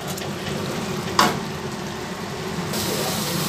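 Spice masala for mutton curry sizzles and fries in a pan as it is stirred, with one sharp scrape of the spoon early on over a constant loud hiss and no talking.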